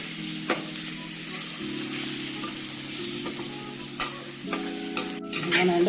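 Spices and masala fry in a pan for a gongura prawn curry, giving a steady close sizzle with a constant hum beneath and a few sharp clicks of stirring.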